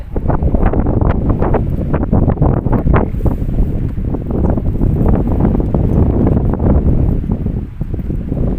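Strong wind roars continuously and loudly across the microphone, a steady buffeting rumble with no voices.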